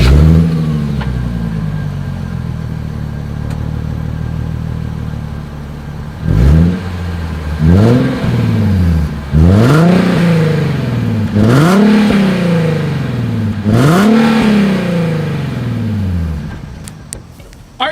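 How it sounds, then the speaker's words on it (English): Exhaust of a 2020 Nissan 370Z sports car idles, then revs sharply five times in a row, each throttle blip rising and falling loudly and close by. "Here is the 2020 Nissan 370Z exhaust clip"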